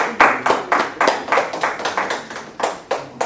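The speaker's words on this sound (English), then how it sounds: "a round of applause for him again" Audience at an awards summit applauding, a close rhythmic run of distinct handclaps repeating at an even pace, loud and dry with no talking over it.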